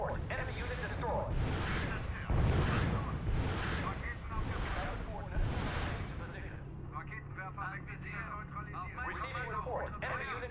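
Gunfire and artillery crash in repeated bursts during a World War II strategy battle in R.U.S.E., loud and rhythmic, then fading as radio-style voice reports speak over the combat.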